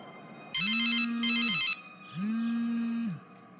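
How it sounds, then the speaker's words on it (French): A mobile phone rings twice in a row, each burst a steady electronic trill with a low tonal hum beneath it, close and fairly loud, with a short gap between the two rings and no talking. "Je vais appeler sur son portable."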